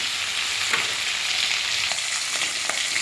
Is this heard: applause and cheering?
no